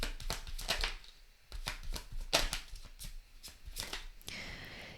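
A deck of tarot cards is shuffled by hand in a series of quick, crisp riffling bursts with short gaps between them, close and fairly quiet, with no talking.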